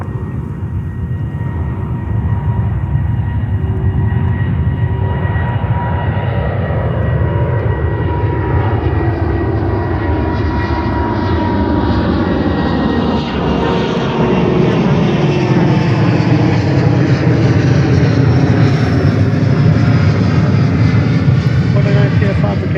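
A heavy Delta jet departs JFK Airport at night, its engines building into a loud, sustained roar that sweeps past and slowly shifts in pitch, with radio chatter and voices around it.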